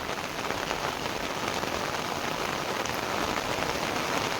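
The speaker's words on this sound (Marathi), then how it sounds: "पाऊस पण बघा" Steady, dense monsoon rain in Mumbai pours down on a hard surface, a continuous hiss of drops with no pauses, fairly close and loud.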